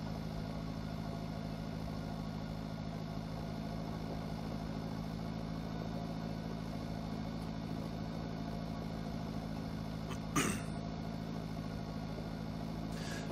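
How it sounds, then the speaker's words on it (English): A small tractor hauls a heavy trailer slowly in the Pure Farming 2018 farming game, its steady engine drone running continuously at moderate level, with a brief sharp knock near the end. "We've got a big heavy trailer. Kind of a dinky little tractor here."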